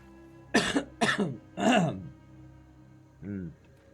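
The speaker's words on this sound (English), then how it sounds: "I've been coughing" Three sharp, close coughs in quick succession from a person who has been coughing lately, then a pause and a softer throat-clearing grunt, in an otherwise quiet room.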